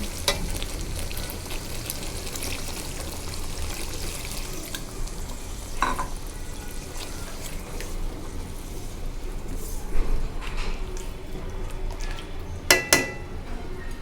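Water poured into a pan of fried spice masala sets off a steady hiss and sizzle, with a few sharper clatters of stirring near the end, close and continuous without talking.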